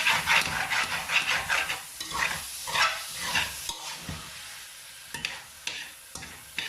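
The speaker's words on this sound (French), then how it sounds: "On mélange. Voyez le sauce. On gratte." A utensil stirs and scrapes through a sizzling chicken and shrimp sauce with small vegetables in a pan, producing repeated rhythmic scraping strokes over a steady frying hiss, close and without talk.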